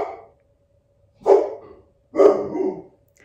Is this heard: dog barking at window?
yes